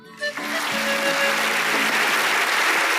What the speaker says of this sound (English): Audience, please give a big round of applause.